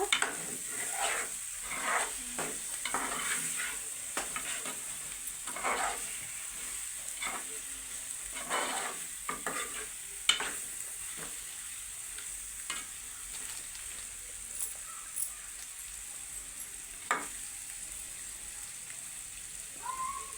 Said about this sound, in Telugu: అన్నీ వేసి కలుపుతున్నారు ఫ్రెండ్స్